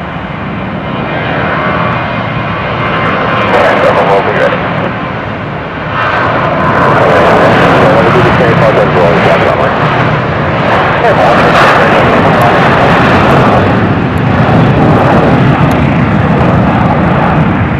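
An Alaska Airlines Boeing 737-900 jet taking off from PDX, a loud, close engine roar that builds and swells steadily as it throttles up, with radio voices faintly under it.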